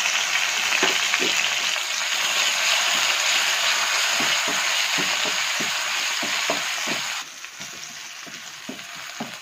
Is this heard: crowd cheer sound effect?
no